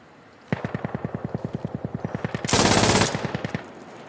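MG3 machine gun in the shooter game Insurgency Sandstorm fires a steady rapid burst of about twenty evenly spaced loud shots, with a dense blast of fire and explosion-like noise swelling near the end before the final rounds.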